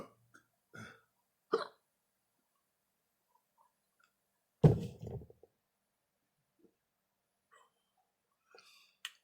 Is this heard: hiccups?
yes